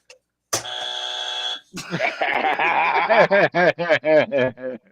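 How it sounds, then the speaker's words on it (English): A long, harsh electronic buzzer blares for about a second, then a voice breaks into rapid, rhythmic laughter or exaggerated syllables. "Can we get a buzzer on that one?"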